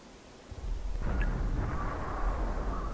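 A single artillery gun fires in World of Tanks, a deep booming blast that swells after a brief quiet and leaves a rolling, rumbling tail.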